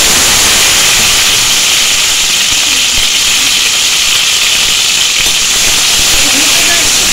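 Chopped tomato dropped into hot mustard oil in a wok with panch phoron and dried red chilli: a loud, close, continuous hissing sizzle that holds steady throughout.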